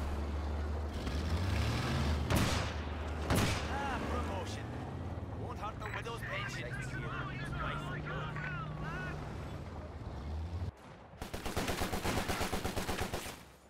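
In a Company of Heroes 2 battle, Bren machine guns fire rapid bursts amid engine rumble and explosions, with a commentator talking over much of the action.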